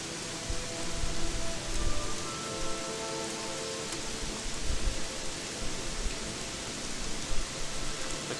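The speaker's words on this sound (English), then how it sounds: "Looks like it's gonna be raining all day" Steady rain falls in the video game Gothic 3, a dense even hiss of drops with small swells, carrying on alone for several seconds.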